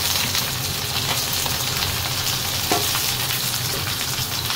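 Garlic, ginger and onion sauté in a pan at home, a loud dense sizzle crackling steadily throughout with faint stirring, no speech heard.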